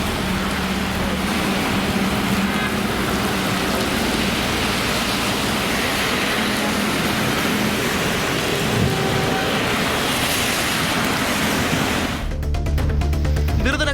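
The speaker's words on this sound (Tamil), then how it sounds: "சுற்றுவட்டார பகுதிகளில் கனமழை கொட்டி தீர்த்தது" Heavy rain pours steadily over a rural area, a loud, dense, unbroken hiss of rainfall lasting throughout; no distinct thunderclap stands out and no one speaks.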